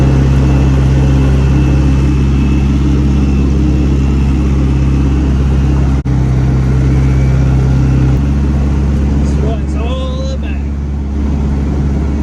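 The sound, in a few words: Mazda RX7 car driving on the road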